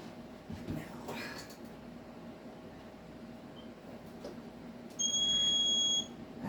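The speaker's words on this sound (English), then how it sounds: "Oven timers are always so much fun." An oven timer sounds a loud, steady electronic beep lasting about a second near the end, heard close over a low kitchen hum during dry canning.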